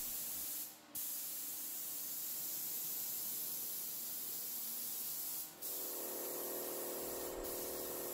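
Amber Enduro-Var polyurethane is sprayed onto a tabletop as a continuous, fairly quiet hiss, broken by two or three brief pauses, with the spray growing slightly louder toward the end.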